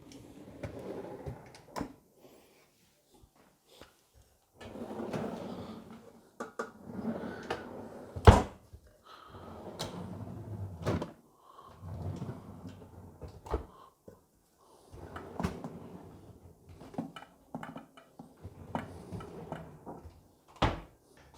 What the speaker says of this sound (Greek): Εδώ στη γωνία έχουμε 3 συρτάρια κλασικά με φρένο.